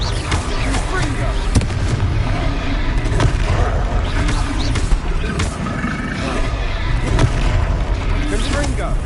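Confringo spell explosions in the video game Hogwarts Legacy, loud booming blasts that repeat over a constant roar of game noise, with a voice speaking over them.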